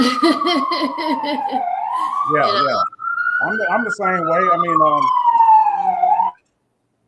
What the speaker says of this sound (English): you got the siren going on in the back